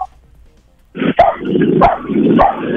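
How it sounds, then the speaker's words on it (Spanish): A dog barks three times, close and loud and evenly spaced. The barks come over a rough, growly background after a brief quiet start. "interesante lo que dice el perro"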